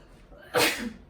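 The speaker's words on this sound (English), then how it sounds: "Hold on, I'm gonna sneeze." A single close sneeze, a short sharp burst of breathy noise after a brief inhale.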